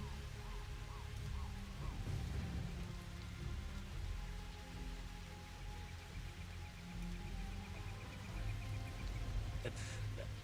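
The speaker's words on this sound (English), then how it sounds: "It sounds like there's rain, but it looks like it's snowing." Steady rain noise in a space-exploration video game, a continuous broadband patter holding at an even level throughout, with faint tonal game sounds layered underneath.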